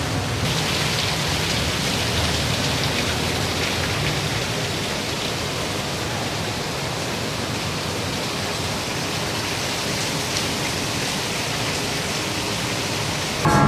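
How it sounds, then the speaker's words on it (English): Vertical waterfall a short walk from the roundabout near Victory Monument in Bangkok, a steady dense rush of falling water, loud and close throughout with no talk. "Only a short walk from BC roundabout, you have a nice vertical waterfall here."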